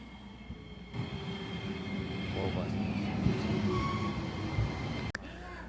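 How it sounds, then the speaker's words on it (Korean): A tram rumbles into a stop in Matsuyama, Japan, and draws to a halt nearby, a steady low roar of wheels and motor with faint squeals, ending in a sharp clunk. "저희가 타야 하는 5번 트램이 왔습니다."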